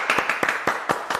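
Audience at a social innovation forum applauding to welcome the next speaker, heard as a short burst of close, fairly loud rhythmic claps repeating about every quarter second.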